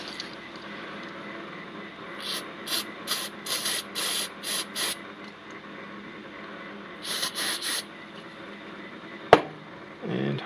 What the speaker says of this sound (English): Get my contact cleaner behind me.